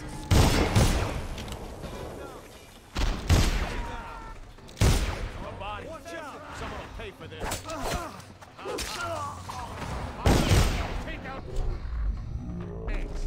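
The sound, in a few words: gunfire with explosive and regular bullets in video game Dishonored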